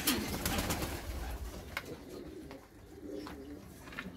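Pigeons in a loft at Islahiye, Gaziantep, coo and rustle close by, with soft overlapping calls running throughout and faint background noise.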